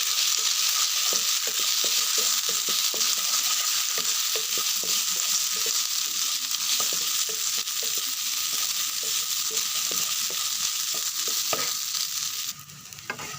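Sun-dried rice fries in oil in a pan while being stirred. A constant sizzle runs beneath repeated scraping and clicking strokes that come at an irregular rhythm throughout, with no voices.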